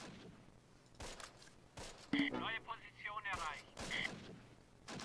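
Gunfire in the WWII strategy video game Close Combat, a few sharp, distant-sounding shots cracking out at irregular intervals, mixed with radio-like chatter and battlefield noise.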